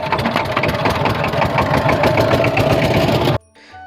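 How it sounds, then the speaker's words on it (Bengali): Trawler boat engine running on the Jamuna river crossing from Manikganj, a loud rapid thudding chug that stops abruptly near the end, leaving quieter background. "আমাদের ট্রলারটির ইঞ্জিন স্টার্ট দিয়ে যাত্রাটি শুরু হলো"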